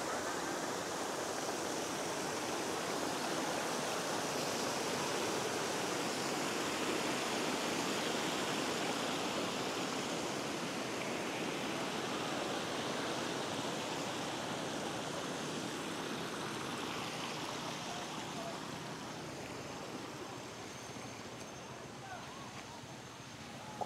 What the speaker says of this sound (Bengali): আর এখানে একটা আর্টিফিশিয়াল একটা ঝর্ণার মতো করে দিয়েছে